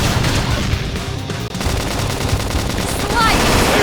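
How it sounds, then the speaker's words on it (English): Flame grenade blast in Xenoblade Chronicles X: a dense, loud roar of rapid fire and explosive crackle filling the whole stretch, with combat effects layered throughout. "Flame grenade."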